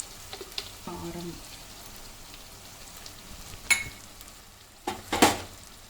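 Chili powder being stirred into onions frying in a pan, a soft continuous sizzle with scattered scraping and clinking of the spoon against the pan, with a few brief voice sounds.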